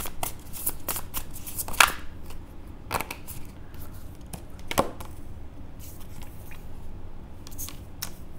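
Tarot cards are shuffled before a reading, soft riffling and sliding with a few sharper snaps of cards striking together, quiet and close with no talk.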